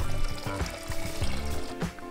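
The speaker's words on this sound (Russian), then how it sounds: "В кастрюлю наливаем воду и ставим на плиту." Tap water runs into a cooking pot for Korean noodles, a steady close pouring and splashing that continues throughout with no talking.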